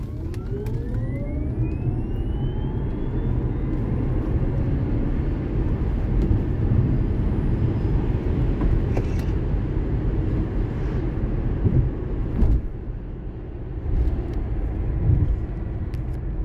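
A Tesla Model S launches hard from a standing start in low mode, its electric motor whine climbing steadily in pitch over a continuous road and tyre rumble.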